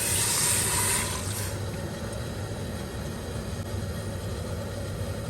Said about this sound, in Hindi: और इसमें मैंने डाला है 1 लीटर पानी।